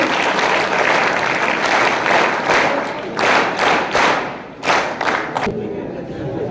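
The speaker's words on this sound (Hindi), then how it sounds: "तालियों से उनका स्वागत कीजिए बच्चों।" Schoolchildren at a science exhibition and results-distribution event applaud together to welcome arriving guests, a dense, loud burst of clapping that thins into scattered claps toward the end.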